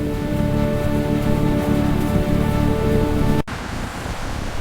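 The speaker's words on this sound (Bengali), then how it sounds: "বৃষ্টি আসছে।" Heavy rain pours in a cartoon scene of a bus on a mountain road, as a loud, dense, steady hiss that cuts abruptly near the end and resumes slightly quieter.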